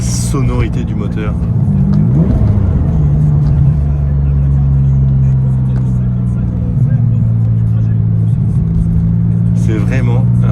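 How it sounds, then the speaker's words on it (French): A Ferrari 550 Maranello's engine drones steadily from inside the cabin while driving, a low sustained hum that shifts pitch with gear changes, with someone talking over it. "La sonorité du moteur."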